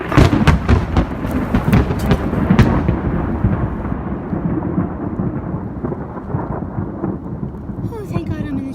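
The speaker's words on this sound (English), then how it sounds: "Oh shit, lightning." Heavy thunder from a thunderstorm rumbles loudly and continuously close by, with sharp cracks in the first seconds, then a long rolling drone over steady rain, outdoors near trees.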